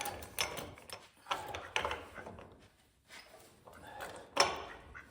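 A wrench tightens the hub retainer nut on a 1970 GMC rear brake and hub assembly, giving several short metallic ratcheting clicks and clanks in irregular bursts with brief pauses, close by.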